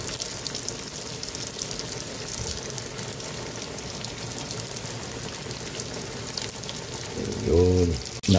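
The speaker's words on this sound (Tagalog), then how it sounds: "Magpiprito na rin po tayo ng lumpiang toge" Bean sprout spring rolls (lumpiang toge) frying in hot oil, a steady close sizzle throughout with a brief louder bubbling burst near the end and no talking.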